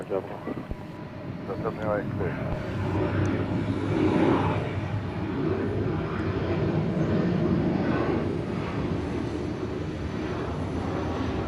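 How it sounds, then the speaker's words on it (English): A Delta Boeing 717 at Atlanta airport gives off a steady, loud jet engine roar that builds gradually and holds throughout. Brief speech is heard at the start. "There's an incoming 717."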